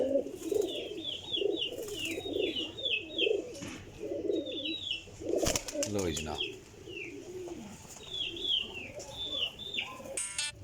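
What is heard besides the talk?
pigeons cooing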